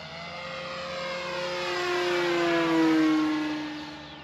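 A model FW190 airplane engine runs at full throttle, giving a loud, high whining drone. It rises and sweeps in pitch as the plane passes, peaking near the middle before fading slightly, with no voices.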